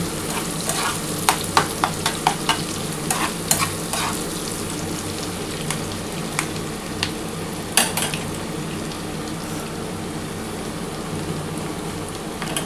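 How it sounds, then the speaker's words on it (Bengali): Tomato and green chillies sizzle with lightly browned onion in a pan for a mustard tangra fish curry, a continuous close frying hiss broken by sharp clicks and scrapes of stirring. "এবার এর মধ্যে আমি টমেটোটা দিয়ে দিলাম আর এই কাঁচা লঙ্কাগুলো দিয়ে দিলাম"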